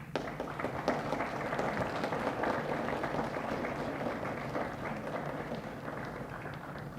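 A graduation crowd at Tar River Academy applauds steadily, a dense wash of many hands clapping at an even level throughout, with no talking on top.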